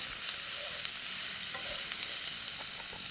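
Onions and pimentos sizzle steadily in a pot with toasted spices and paprika for a Trinidad-style channa and tomato stew, with a close hiss of frying and occasional stirring scrapes and no voices.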